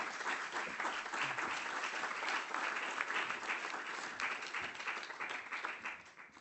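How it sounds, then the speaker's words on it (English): An audience at a digital conference awards ceremony applauds as an award recipient is called forward, with continuous crowded clapping that holds steady and begins tapering near the end. "Round of applause."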